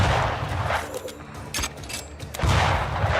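Gunfire from a headshot in the video game Banishers: Ghosts of New Eden cracks out in several loud, sharp bursts with heavy low-end booms between them, close and punchy.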